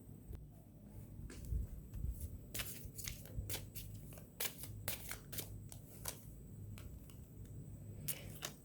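Tarot oracle cards being shuffled by hand, a quiet run of soft riffling slaps and flicks in irregular bursts over a low background hum, with no talking.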